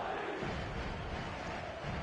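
A stadium crowd cheering in a PES football video game, a steady distant roar of many voices at a low level.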